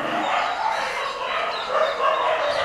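Dogs housed in animal shelter kennels bark and yip in a dense, echoing chorus, overlapping continuously at close to moderate distance.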